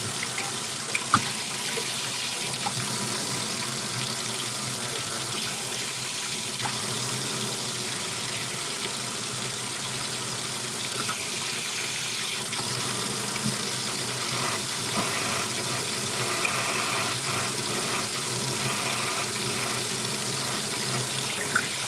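Water from a faucet runs steadily into a clogged sink, a continuous close hiss and splash lasting over twenty seconds with no voices.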